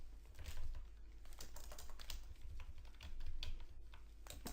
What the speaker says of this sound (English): Let's go to the top together, to the browser bar, and then you type in the following: